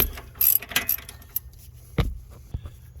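An 18mm socket on a ratchet tightens a strut bolt during front strut replacement on a 2012-2018 Nissan Altima, with a burst of quick clicking pawl ratchet strokes up close, then a few isolated metallic clicks and knocks.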